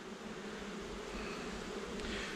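A dense, steady buzzing of many honeybees from a recently queenless colony swarming close by, continuous and fairly quiet, with no voices.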